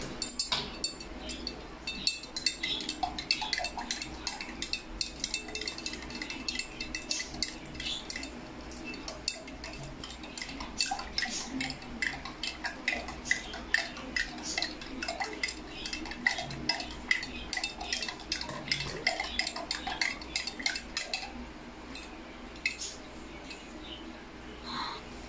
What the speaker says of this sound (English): mix this calamansi juice for the sugar to dissolve